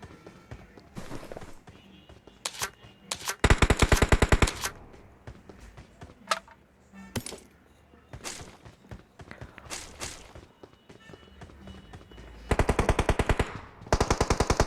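Gunfire in the BGMI shooter game sounds as bursts of rapid automatic fire mixed with single shots and quick footsteps, loud and close, with quieter gaps between volleys.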